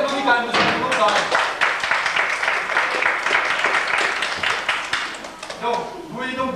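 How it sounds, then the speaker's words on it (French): At a village festival revue staged as a mock game show, an audience applauds a contestant with dense, steady clapping for several seconds, fading near the end as a voice begins speaking. "On applaudit quand même"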